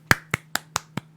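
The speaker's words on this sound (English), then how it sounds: "You gotta do the friendly golf clap after you do Waka Flocka" A friendly golf clap: six light, evenly spaced claps in about a second, close and crisp with no talking.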